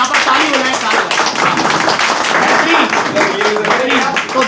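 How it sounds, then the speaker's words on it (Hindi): A seated crowd of men in a gathering applauds in a dense, continuous patter of clapping, with a voice talking over it throughout. "ताली हो जाए"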